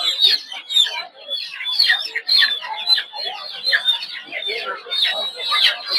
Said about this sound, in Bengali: এখানে দেখতে পাচ্ছেন ছোট ছোট মুরগির বাচ্চা